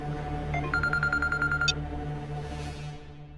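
A mobile phone rings with a short series of electronic tone pulses over a steady background drone, clear and fairly close, followed by a sharper high chirp.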